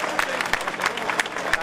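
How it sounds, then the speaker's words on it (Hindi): Audience clapping at a political women's rally, an uneven patter of individual claps with sharper peaks, short and close, while a voice speaks over it. "जोरदार तालियों के साथ स्वागत करें"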